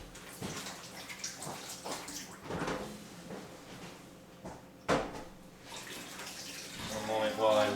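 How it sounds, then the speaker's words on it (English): Tap water running during hand washing in a home kitchen, a steady splashing flow with clatters and a thump midway, while people talk in the background. "One moment while I wash my hands."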